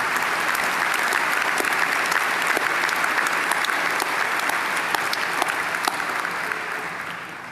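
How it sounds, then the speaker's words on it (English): A large commencement crowd at a Towson University ceremony claps steadily for the organizers. The applause is dense and sustained, with sharp individual claps standing out near the microphone before it tapers at the end. "I would ask if you would all join me in a round of applause for all the people that have made this ceremony possible."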